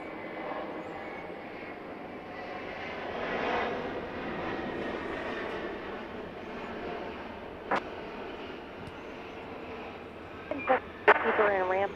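An airliner takes off at night from runway 8 right at Atlanta airport, its engine roar a steady, distant broadband rumble with faint radio voice chatter over it.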